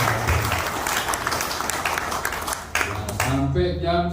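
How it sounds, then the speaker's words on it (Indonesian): Applause from a gathered audience at a community forum meeting in a neighbourhood office, a broad, steady patter of many hands that fades out near the end as a voice begins speaking. "Ya, tepuk tangan juga nih."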